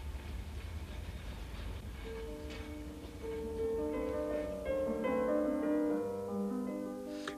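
An old museum steam locomotive, still in service, runs past at a parade in Riesa, a steady low rumble and rolling clatter building in loudness, with sustained tonal whistle-like notes rising over the noise midway through.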